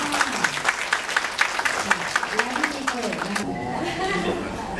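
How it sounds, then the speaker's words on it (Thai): An audience at a regional organ donation and transplant ceremony claps, many distinct hand claps forming brisk applause that fades out partway through while voices talk and music continues underneath. "ขอเสียงปรบมือด้วยค่ะ"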